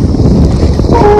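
Strong wind gusts at a hilltop viewpoint in Udayapur, heard as loud, close, rumbling buffeting across the microphone for about a second.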